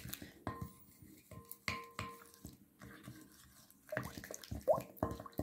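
A spoon clinks and taps against a glass, stirring yeast and yogurt into warm water to dissolve them. The clinks come in a quick, irregular series of bright ringing knocks, close and fairly quiet, with no talking.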